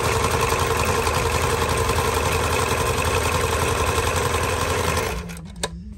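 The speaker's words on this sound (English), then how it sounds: "everything is sewing as I show you the sample" A household sewing machine running steadily at speed while stitching a zigzag sample after a shaft repair, a dense continuous mechanical whir that stops abruptly near the end, followed by a quiet clunk.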